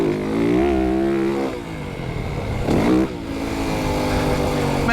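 A 2025 Yamaha YZ450FX dirt bike accelerating toward a jump, its engine revving loud and close, pitch climbing in surges with a brief dip between throttle pulls.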